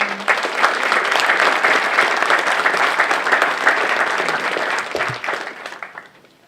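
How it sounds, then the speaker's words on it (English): Students, faculty and other attendees at a school funding rally applaud loudly, a dense sustained wave of clapping that holds steady for several seconds before thinning and fading out at the end. "Let's get a round of applause for that"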